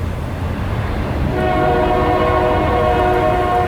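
A Western train rolls past close by, a loud rumbling roar of wheels and cars joined partway through by a sustained, chord-like horn blast that holds to the end.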